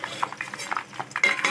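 A steel plate clinks and scrapes into place as a lid over a pan of hibiscus oil heating on the stove, with several light metallic taps close by and no talking.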